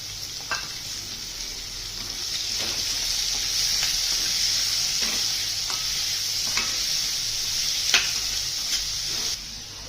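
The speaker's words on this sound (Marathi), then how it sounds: "कांदा चांगला परतून घ्यायचा याच्यामध्ये." Onion frying in a couple of spoons of oil in a kadhai, giving a loud, continuous close-up sizzle broken by occasional light clicks of the stirring spoon, with no voices.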